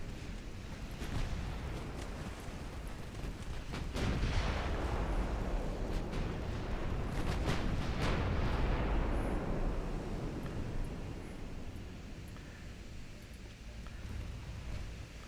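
Warship guns firing in Ultimate Admiral Dreadnoughts: repeated deep blasts and sharp cracks over a continuous heavy rumble, with loud salvos clustered around the middle before easing off.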